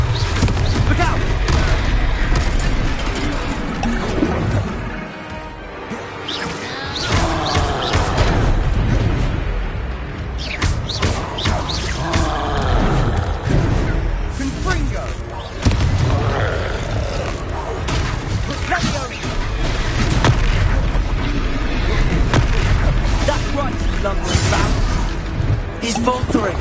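Confringo explosive spells blast repeatedly in a Harry Potter video game with booming, whooshing impacts, loud and continuous, while characters shout over the combat.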